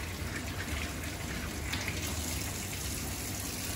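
Tap water runs steadily over a pouch caught while fishing, a continuous close rush and gush of water with no talking.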